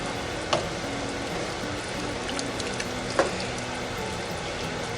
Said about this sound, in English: I'm just stirring it in good because it'll thicken a little bit as I do that from the heat of the sausage and vegetables